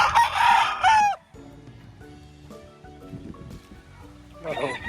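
A rooster on a game fowl farm in Lipa, Batangas gives loud, close crows near the start and again at the end, with quieter farm sounds and low talk between.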